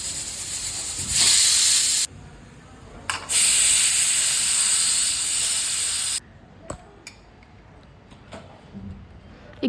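A pressure cooker cooking dal khichdi releases steam in two loud, sustained hissing bursts, one short and one about three seconds long, followed by quieter clicks and rattles.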